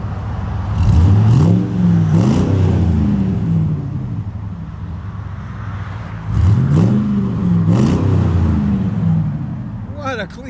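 A 2003-2006 Chevy Silverado SS with a 6.0L V8 and 307,000 miles revs twice, its exhaust swelling to a deep throaty roar and falling back to idle, loud and close, with a person talking at times.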